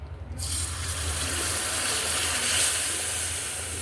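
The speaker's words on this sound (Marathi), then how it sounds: "आता ह्याच्यामध्ये आपल्याला आधी एक वाटी पाणी घालून घ्यायचं आहे" A bowl of water is poured into moong dal halwa cooking in ghee, a steady, close rushing splash that starts abruptly and continues evenly for several seconds.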